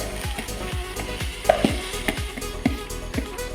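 Rice sautéing in a pan for vegetable pulao, a steady close sizzle broken by rhythmic scraping stirs and occasional clinks of the spoon.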